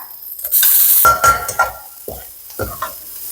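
Garlic hits a hot pan for shrimp fried rice: a loud burst of sizzling, then several scraping strokes of a spatula against the pan, with the frying hiss fading between them.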